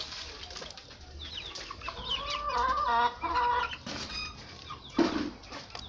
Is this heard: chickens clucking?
yes